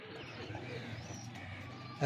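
A male blue-tailed Nildumba pigeon coos in low, soft, continuous murmurs close by, ending with a brief louder rustle.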